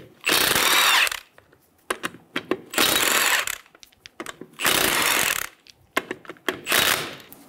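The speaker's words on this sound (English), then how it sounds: "Using a 19 millimeter socket, remove the four lug nuts." A power impact tool with a 19 mm socket spins off the four lug nuts on a 2000-2007 Ford Focus front wheel: four loud, close whirring bursts about a second each, separated by short clanks and handling noises.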